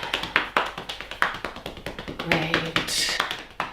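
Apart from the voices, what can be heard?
clapping hands against leg muscles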